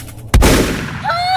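A single loud gunshot rings out from a cattle pen in a Thai audio story, a sharp blast that decays into a long rumbling tail, with faint bird-like chirps rising near the end.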